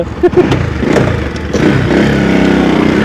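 A motorcycle engine revs close by in an outdoor setting, a steady throaty roar building over a few seconds with brief clatter near the start and no talk.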